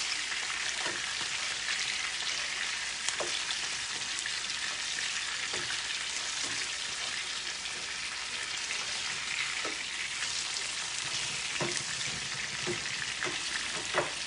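Steady crackling sizzle of fish frying in hot oil, continuous and close, with occasional sharper pops and spatters throughout.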